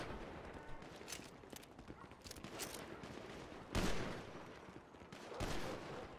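Gunfire in GTA, continuous and fairly faint, with louder bursts near 3.8 and 5.5 seconds.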